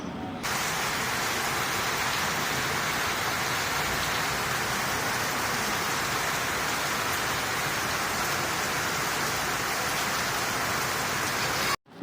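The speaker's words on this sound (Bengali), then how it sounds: "বাইরে খুব জোরে বৃষ্টি শুরু হয়েছে আর বৃষ্টি পড়ার এই আওয়াজটা" Heavy rain pours down outside in a dense, unbroken roar that holds steady throughout before cutting off abruptly.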